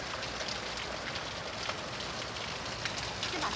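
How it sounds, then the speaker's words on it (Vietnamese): Heavy rain pours steadily and close, a dense unbroken hiss with scattered drop impacts that holds at an even level throughout, with no voices. "mưa lớn quá"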